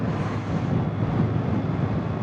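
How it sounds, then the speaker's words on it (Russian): Steady broadband wind buffets the microphone on a windswept island in the sea, a continuous near rushing roar with no voices. "Сразу говорю, здесь ветрено."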